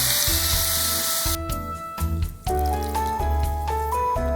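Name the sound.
water added to frying curry ingredients in a pot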